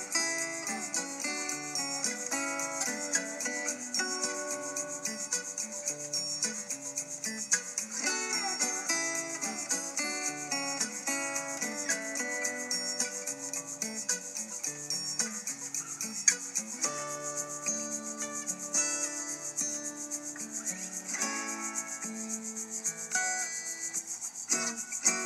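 A worn 60-grit disc grinds and rubs steadily across a metal tool from a Starrett punch set or a Dead On hammer, making a continuous raspy, high-pitched scraping that holds an even level for the whole stretch with no talk.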